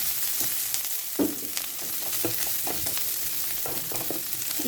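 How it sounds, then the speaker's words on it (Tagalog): Garlic and onion sautéing in a little cooking oil in a pan, a moderate steady sizzle with repeated scraping and stirring strokes of a utensil. "I-saute lang natin saglit hanggang maamoy yung aroma ng bawang at sibuyas"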